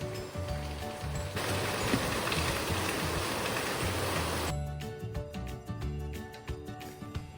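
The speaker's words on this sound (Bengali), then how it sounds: "এই দেখুন আবার বৃষ্টি শুরু হয়েছে মুষলধারে" Heavy rain pours down in a dense, steady roar for a few seconds, then cuts off, leaving scattered light ticking and clicking sounds.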